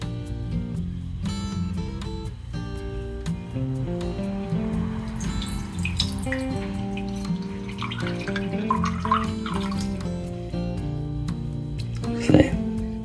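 Water poured into a flower vase, a steady running splash over tonal background music with a voice nearby, ending in a brief louder splash near the close.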